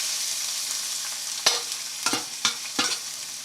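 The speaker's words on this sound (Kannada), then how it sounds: "ಈರುಳ್ಳಿ ಹಾಕೋತಾ ಇದ್ದೀನಿ." Onions going into hot oil in a pan, a steady soft sizzle with a few sharp stirring scrapes and clatters spaced over a few seconds, no talking.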